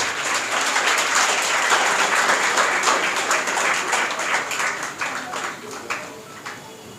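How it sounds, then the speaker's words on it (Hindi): Audience clapping at a school Teachers' Day and speech competition program, a steady crowd of hands applauding for several seconds before gradually thinning out toward the end. "Clap for her."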